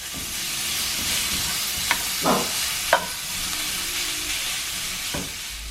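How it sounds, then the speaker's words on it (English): Steady sizzling and crackling of bacon frying in a hot pan, with a few light clinks and scrapes of a utensil. "I'm going to toss it in my frying pan and cook it up"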